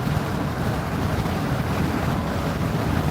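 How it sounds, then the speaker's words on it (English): Wind blows steadily on a warm Texas morning outdoors, a loud, constant rushing roar buffeting the microphone throughout with no voices. "Windy. Here comes the wind."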